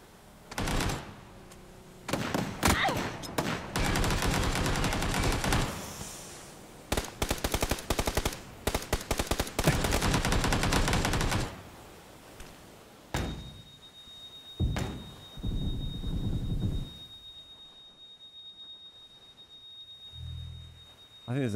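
Rapid automatic AK rifle fire in the battle royale shooter PUBG on Xbox Series X, loud sustained bursts and volleys packed into the first twelve seconds, then a few scattered shots and quieter game ambience.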